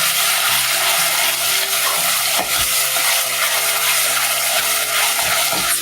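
Prawn curry paste being stirred in a hot pan, a steady sizzling hiss with soft scraping and clinks of the spoon, close and continuous.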